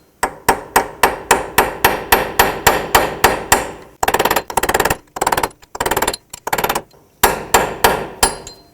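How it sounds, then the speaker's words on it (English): Hammer strikes on a punch staking the front axle nut of a 2009-2015 Toyota Prius, a close, evenly paced series of sharp metallic blows followed by quicker, irregular bursts. "take a little punch or whatever you have and a hammer and punch it in"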